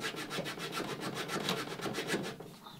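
Hand sanding wood for the inwales of a Catalina Wherry rowing boat, using sandpaper wrapped on a stick: steady, rhythmic back-and-forth scratchy strokes, close and fairly loud, with no talking.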